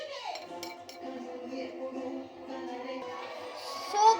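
A utensil stirs a slime mixture in a container, giving quiet scraping and light clinking taps against the sides over a few seconds.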